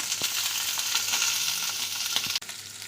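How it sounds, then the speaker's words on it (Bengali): Cardamom, clove, cinnamon, chopped onion and green chili crackle in hot oil, a bright close sizzle with a few stirring taps, then a sudden sharp clatter and brief dip near the end. "তেলটা গরম হয়ে গেছে, এখন ওর মধ্যে দিচ্ছি এলাচ, লবঙ্গ, দারচিনি"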